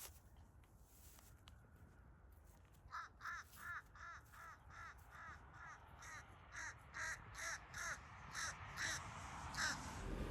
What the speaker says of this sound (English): There's more of those crows going to join the rest of them.